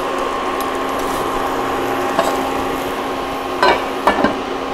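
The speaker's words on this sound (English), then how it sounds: "I'm just going to put this in the pan, the exact same way that you would make a grilled cheese sandwich" A Reuben sandwich with hot corned beef fries in a pan like a grilled cheese, giving a steady close sizzle with a few brief sharp clicks near the end.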